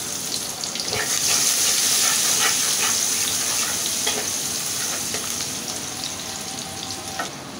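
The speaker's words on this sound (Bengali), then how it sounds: "আমি একটু পেঁয়াজ কুচি দেব" Chopped onions fry in a pan with a constant, close sizzle, scattered with sharper crackles and stirring scrapes.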